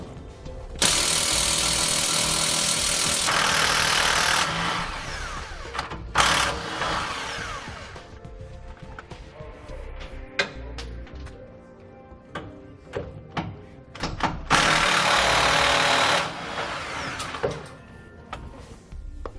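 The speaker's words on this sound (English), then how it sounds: "We'll then use a 21mm socket to remove both bolts." Power tool loosening and removing bolts with a 21mm socket on the rear anti-sway bar of a 2016 Thor Windsport RV, loud bursts of whirring impact-driver noise in several runs separated by clanks and handling sounds.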